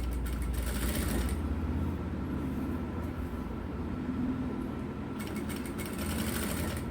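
A sewing machine stitching the folded neck edge of a blouse runs as a steady, continuous mechanical whir and rattle. The sound stays fairly loud and unbroken throughout, with no talking.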